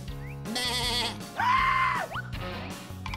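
A sheep bleats in an animated cartoon, two loud wavering bleats close up over a bouncy music backing.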